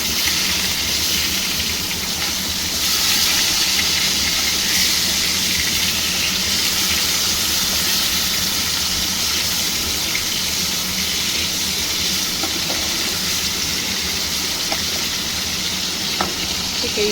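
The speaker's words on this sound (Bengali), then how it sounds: "যতক্ষণ মাছটা ভাজা হচ্ছে" A katla fish in a frying pan gives a loud, continuous close sizzle with a steady hiss and faint crackle throughout, and no talk over it.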